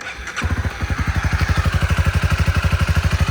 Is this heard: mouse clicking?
no